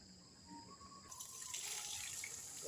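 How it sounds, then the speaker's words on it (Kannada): Water is poured onto garden plants, starting as a faint background and swelling into a steady, fairly close rushing flow about a second in, with no voice. "ಗಿಡಗಳಿಗೆಲ್ಲ ಸ್ವಲ್ಪ ನೀರು ಹಾಕ್ತಿದ್ದೀನಿ"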